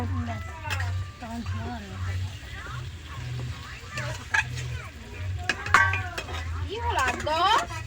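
Potatoes go into a home-cooked biriyani pot and get stirred, with a metal spoon scraping and clinking against the pot under a low hum, while voices talk throughout.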